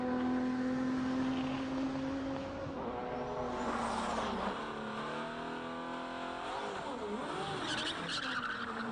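A race car climbs a hillclimb road at King of the Hill, its engine note droning loud and steady with rising and falling pitch as it revs through gears, tyres faintly squealing, heard alone throughout.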